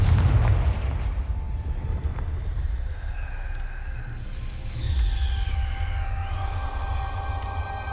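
Deep rumbling blasts from a Confringo explosion spell in a Hogwarts Legacy-style video game, a heavy low boom at the start and another around five seconds, with ringing tonal tails between them.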